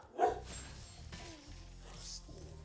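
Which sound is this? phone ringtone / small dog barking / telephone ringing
small dog barking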